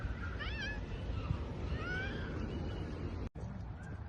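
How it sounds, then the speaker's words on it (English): A cat gives a few short, rising meows, fairly close, over steady low outdoor background noise, with a brief bump near the end. "Hey look, a cat."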